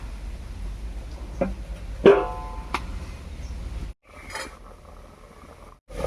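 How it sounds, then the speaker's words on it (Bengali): A metal lid set onto a cooking pot of rohu fish curry with cauliflower and potato gives one sharp clank with a brief ringing tail, surrounded by a few small knocks in a quiet kitchen. "এবারে ঢাকা দিয়ে আরও পাঁচ মিনিট মতো রান্না করে নেব"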